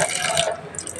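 Running water rinses peeled salad vegetables, a short, close, splashing gush that eases off after a moment.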